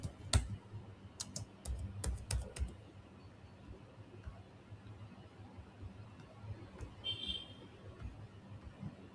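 Computer keyboard typing an SQL inner join query, scattered clicks and short bursts of keystrokes, fairly quiet and close, with pauses between.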